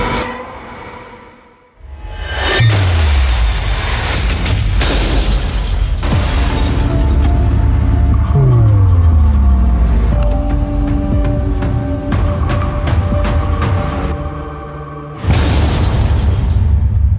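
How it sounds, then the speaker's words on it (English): A violent metallic crash with shattering and crunching, followed by sustained grinding, rattling debris and ringing tones, then another loud burst near the end, as a Tata Tiago CNG car takes a high-severity side-impact crash test. "The same car now faces a second high-severity side impact."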